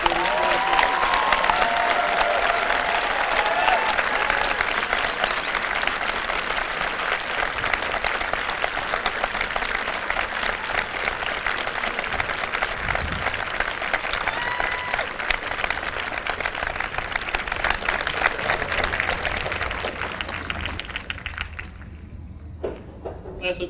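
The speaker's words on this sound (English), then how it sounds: "Please give them a round of applause." A high school graduation audience applauds military enlistees in a long, loud, continuous ovation with scattered cheers, holding steady for some twenty seconds before fading out near the end.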